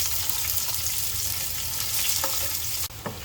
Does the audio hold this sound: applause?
no